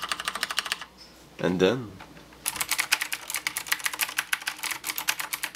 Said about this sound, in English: a lot softer, feels better, and the sound is really much more quiet. Like I'll do a comparison just here.